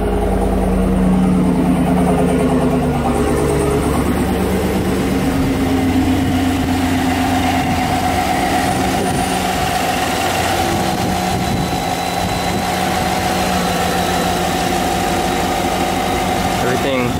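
A 2023 Cadillac Escalade with a Rotofab intake idles under the open hood, its engine a steady, close drone with an even low rumble and a faint whine over it, with no break throughout.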